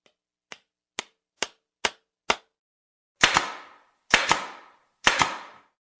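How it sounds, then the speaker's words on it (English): Five light, sharp clicks are followed by three louder, heavier bangs from a pneumatic nail gun driving nails into wood, each a short double thump that rings out briefly. "it actually uses compressed air to push nails really fast into the wood"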